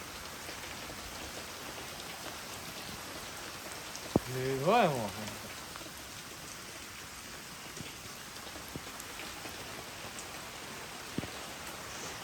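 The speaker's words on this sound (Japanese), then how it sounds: "久しぶりの雨だな。" Rain pours down on and leaks into an abandoned house being restored, a soft constant hiss of drops filling the whole stretch, with a brief spoken exclamation partway through.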